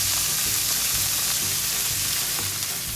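A pork roast sears in a hot pan as it is turned, giving a steady, loud, close sizzle and crackle throughout with no voices.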